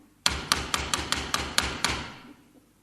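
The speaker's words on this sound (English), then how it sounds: "Sounds like her knock." A door is rapped with eight quick, evenly spaced knocks, crisp and close, each hard knock ringing briefly before the next, then the sound fades into quiet.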